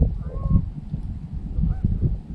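Several geese honk repeatedly at moderate distance, irregular nasal calls rising over an outdoor background during a dove hunt.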